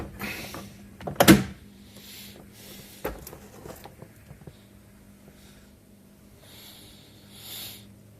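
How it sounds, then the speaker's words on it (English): A door panel is pulled off a Nissan Xterra door, with a sharp plastic pop and scraping clatter, then a smaller knock and faint rustling handling noises up close. "You're just going to pull up on it and it should come out."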